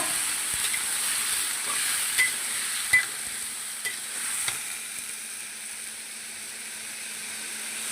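Potatoes added to hot oil, a bright steady sizzle with a few sharp clicks and scrapes from stirring, close and moderately loud.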